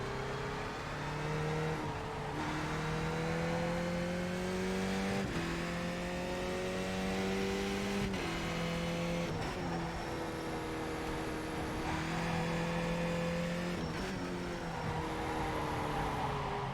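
A race car's engine revs steadily through repeated gear changes in the iRacing sim, a loud continuous drone climbing in pitch and dropping at each shift, on cold tires.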